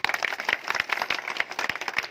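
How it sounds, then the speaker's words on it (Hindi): An audience at a political gathering claps together on request, a dense run of hand claps continuing steadily for a couple of seconds at moderate loudness. "एक बार ताली बजा दीजिए।"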